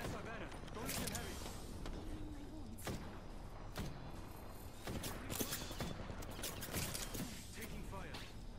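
Gunfire in the battle royale shooter Apex Legends, rapid bursts and sharp shots crackling densely throughout alongside thuds and mechanical clatter, with players talking over the fight.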